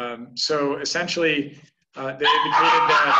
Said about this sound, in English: I apologize for my dogs there.